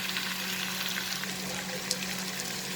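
Bitter gourd and potato sautéing in a hot pan, giving a dense, continuous, loud sizzle close up with faint stirring underneath and no talk.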